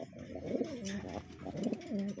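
Low, throaty cooing of an old racing pigeon repeats in soft rolling phrases, close by, with a faint hum of background noise.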